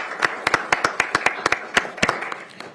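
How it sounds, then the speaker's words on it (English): A small group claps in a county council chamber during a jury service proclamation. The claps are distinct and fairly close, forming a short, uneven round that thins out toward the end. "Let's give them a round of applause."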